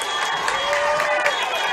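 A high school football crowd roars and cheers during a tense late-half play between Peabody and Gibson County, a steady dense wash of voices and whistles from the stands, loud and continuous.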